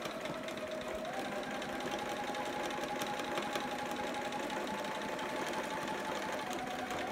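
A sewing machine hems a romper with a back stitch, a steady close mechanical whir running evenly throughout without talk.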